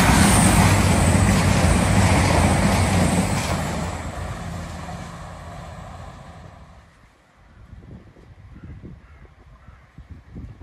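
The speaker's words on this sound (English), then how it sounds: "The Nottingham to London St Pancras, having just stopped at Beeston and accelerating away." A Class 222 Meridian diesel train on the Nottingham to London St Pancras service pulls away from Beeston station, its loud broadband engine roar filling the first seconds, then fading into the distance and leaving quiet ambient noise.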